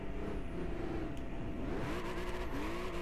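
A RUF CTR2 in Gran Turismo 5 accelerating from second gear, the engine note climbing steadily with gear changes, heard at a moderate level with no talk over it.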